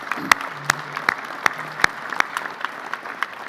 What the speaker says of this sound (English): Round of applause for Davies